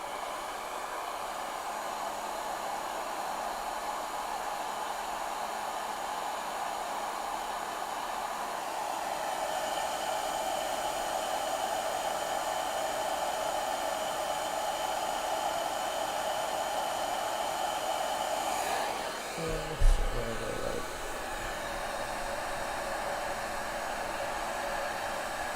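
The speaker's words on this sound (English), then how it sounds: "I already have the heat gun turned on" A heat gun blows hot air in a steady, loud whooshing drone that holds unbroken throughout, with a brief thump near the end.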